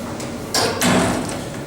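Sliding doors of a 1970s Otis lift at Wellington Hospital, heard as two sharp mechanical knocks a moment apart over a steady hum, close and fairly loud.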